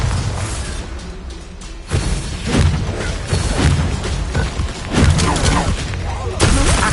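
Bombarda blasting spells explode in a Harry Potter video game, a series of loud, booming bursts spaced a second or two apart over steady battle noise.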